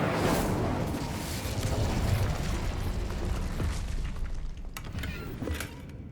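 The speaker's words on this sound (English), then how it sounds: "Incendio." Incendio fire spell cast in the video game Hogwarts Legacy, a dense whooshing, rumbling burst of flame that roars continuously and fades slightly toward the end, with faint crackles and clicks.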